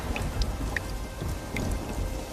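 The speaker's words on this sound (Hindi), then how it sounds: "ये बारिश का सिलसिला यूं ही कुछ दिन तक जारी रहता है।" Steady rain pours down in a rainstorm, with scattered drops hitting surfaces and low rumbles of thunder underneath, continuous and fairly close throughout.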